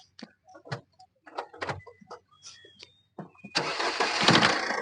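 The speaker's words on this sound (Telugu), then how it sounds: "సింగిల్ కాల్స్ ఇంజిన్ స్టార్ట్ అవుతుందండి." Diesel 2016 Ford EcoSport engine cranking and catching on the first try, preceded by a few scattered clicks and knocks, then a steady close idle rumble for the last second or so.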